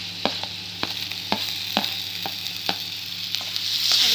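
Green chilli and tomato stirred into a sizzling bhindi do pyaza masala in a pan, with a constant fry hiss broken by repeated sharp spoon scrapes and taps at an uneven pace, close up and without speech.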